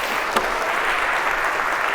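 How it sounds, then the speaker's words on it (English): A lecture hall audience claps for volunteers, a dense, even wash of applause throughout the short stretch. "a round of applause for our volunteers here"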